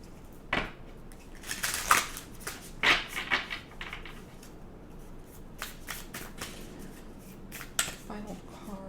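Tarot cards shuffled and drawn by hand in a series of crisp riffles and slaps, bunched into short bursts with quieter shuffling between, close and fairly soft.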